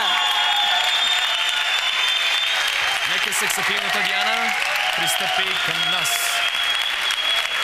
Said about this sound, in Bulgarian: Вашите аплодисменти за Диана.